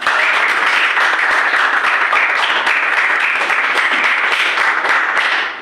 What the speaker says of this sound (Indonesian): beri tepuk tangan buat Darren